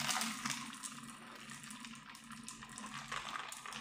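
Tap water pours steadily into a bottle of Prime drink, a continuous hissing, splashing stream heard close and at a low, even level for several seconds.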